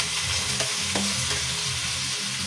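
Shrimp sautéing with onions in a pan for coconut-milk shrimp with squash and moringa, giving a steady close sizzle with a few light stirring scrapes and no voices.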